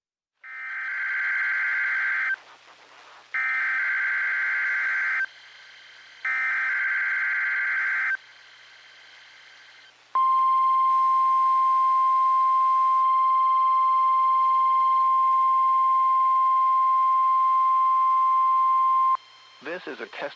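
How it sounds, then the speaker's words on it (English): National Weather Service weather radio warning alarm: three loud, steady buzzy attention bursts separated by short gaps, followed by a long continuous pure alert tone lasting about nine seconds, then a brief burst of noise at the end. "This is a test of the National Weather Service weather radio warning alarm"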